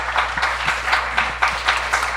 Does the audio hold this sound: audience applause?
yes